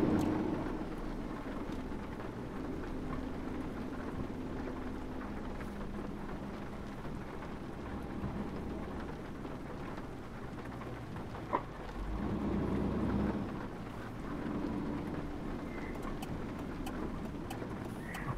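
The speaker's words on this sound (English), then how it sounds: "I forgot the rain on this game affects many factors of your driving." Steady rain in Euro Truck Simulator 2 pours over a truck drive, a continuous broadband hiss with low rumble throughout, swelling briefly near the end, with no talking.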